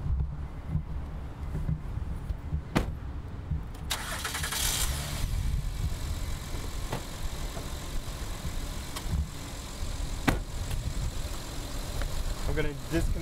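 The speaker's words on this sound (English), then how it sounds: "I'm gonna go over and start the car." A car engine cranks and catches on power from a portable 12V jump starter, then settles into a steady idle outdoors with wind buffeting the microphone and scattered clicks.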